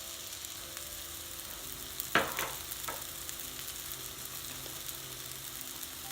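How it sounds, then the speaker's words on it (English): Onion frying in a pan with Indian seasonings such as allspice and garam masala for a lamb curry: a steady, close sizzle with one sharp stirring clatter partway through. "Let the onion fry really well."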